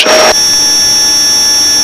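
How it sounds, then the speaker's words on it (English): The turboprop engine of a Pilatus PC-12 shuts down: a loud roaring burst cuts off after a fraction of a second, leaving a steady whining hum with high tonal whistles. "Shut off the engine."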